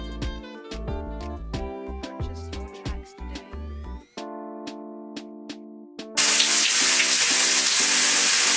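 Tap water gushes loudly, running while hair is rinsed. The water starts abruptly after a stretch of plucked, tuneful music and continues steadily to the end.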